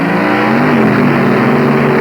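The 1965 Hurst Hemi Underglass drag car roars at full throttle during wheelie runs, a dense, loud, continuous engine blare with a slight rise in pitch over a couple of seconds.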